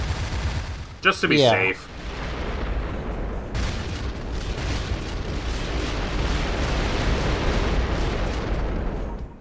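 Objects blown up in the Descent 3 game, a burst of sharp synthetic weapon sounds followed by a long rumbling explosion roar that lingers, with a voice briefly heard over it.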